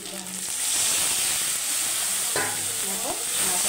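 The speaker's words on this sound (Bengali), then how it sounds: "দেখো মশলাটা দিয়ে ভালো করে কষে নেবো তেল ছাড়া পর্যন্ত" A spice paste of ground masala with ginger paste and fried tomato sizzles in hot oil as it is stirred and scraped in the pan for a fish curry, with a steady hiss and occasional utensil scrapes close up.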